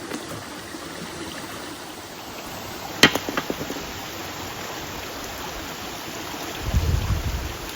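Water trickles along a forest stream on a mountain trek, a faint steady wash with a few sharp clicks and knocks midway and a soft low thump near the end.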